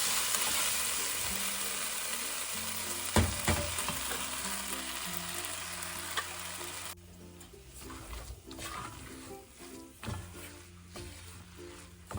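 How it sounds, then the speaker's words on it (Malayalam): Cooked bamboo rice stirred in ghee, with a steady sizzle and frying hiss at first that drops away midway, leaving quieter scraping and stirring sounds with occasional clunks. "നമുക്ക് വെന്ത അരി ഈ നെയ്ക്കകത്തിട്ടൊന്ന് നന്നായിട്ട് ഇളക്കിയെടുക്കാം"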